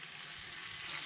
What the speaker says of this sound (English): Add some water from the pasta.